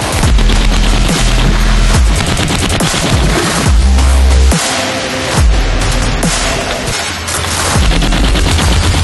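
An M2 Browning heavy machine gun fires with Ukraine's 13th unit, loud booming bursts of rapid shots in close, repeated volleys with brief gaps between them.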